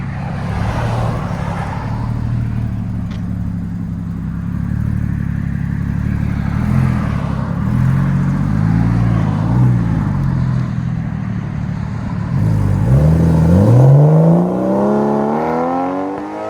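A 2015 Porsche Cayman with a 2.7L flat-six and Vibrant bottle resonators idles with a deep, rumbling exhaust note. It then revs hard near the end, the engine pitch sweeping sharply upward, and no one speaks.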